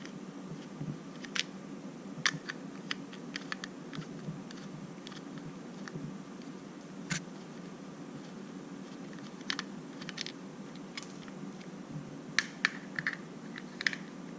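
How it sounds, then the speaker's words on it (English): Small screws being taken out of the back plate of a Neutrogena light therapy mask, giving faint, sparse clicks and ticks scattered over a quiet background. "take out these 3 screws so we can get the back plate completely taken off"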